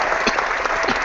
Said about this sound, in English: A round of applause for Trajik, please.